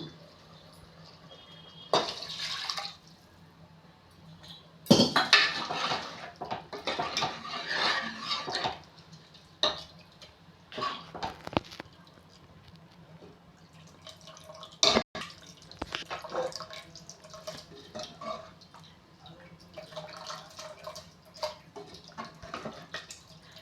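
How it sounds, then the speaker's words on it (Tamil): Water is poured into a pot of mutton thanni kulambu, with splashing bursts, drips and clinks of the pot and utensils coming in irregular spells over a quiet kitchen background. "ஸோ தண்ணி இன்னும் கொஞ்சம் தாராளமாக சேர்த்துக்கலாம்."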